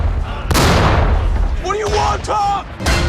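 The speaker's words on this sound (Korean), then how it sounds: "급기야 한 대의 미군 탱크가 박살납니다." An American tank is destroyed by a German Tiger tank in a war film: loud booming blasts and crashing impacts with whining, metallic tones, under dramatic battle noise and a voice.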